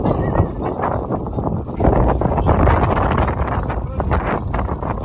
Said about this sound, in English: Not gonna be able to hear anything, but just wind. So windy.